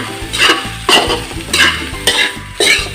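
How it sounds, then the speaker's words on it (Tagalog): Leftover rice for Ilocano-style fried rice is stir-fried in a pan, with loud, close scraping stirs about every half second over a constant sizzle. "So, stir fry lang po natin itong ating kaning lamig mga kailyan."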